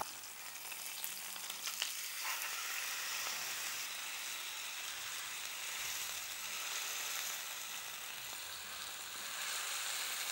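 Steak sizzles in a hot pan, a steady bright crackling hiss with no talking, close by and constant throughout.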